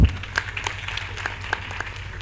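Audience clapping at a youth summit, a steady scattering of hand claps at moderate distance over a low background hum.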